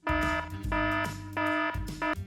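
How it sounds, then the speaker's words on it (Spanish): An alarm clock rings in loud, repeated buzzing bursts, four tonal pulses with short gaps between them, close and clear with no talking. "una alarma confiable para que no llegues tarde"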